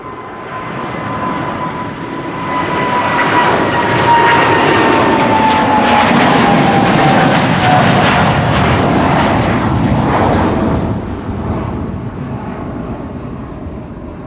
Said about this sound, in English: In the meantime, the KLM 100 years is taking off over here.